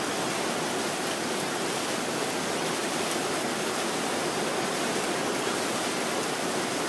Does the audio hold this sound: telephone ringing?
no